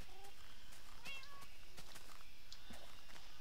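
A few short, soft cat meows from Minecraft cats following a player through water, with quiet game ambience around them and no talking.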